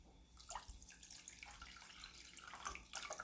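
Water is added to a pan of sugar, a soft running splash and trickle heard close but at low level, with faint kitchen clatter.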